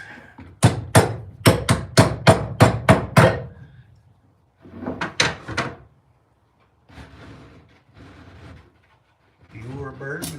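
A quick series of sharp hammer blows rings out close by, about eight in a row, while building a wooden birdhouse, followed by a few softer knocks and a person speaking briefly.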